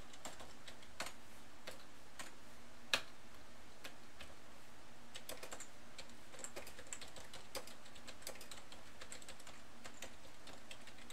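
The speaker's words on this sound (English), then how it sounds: "As a matter of fact, we just type this in." Typing on a computer keyboard, with sparse, irregular key clicks and one sharper tap, close and quiet.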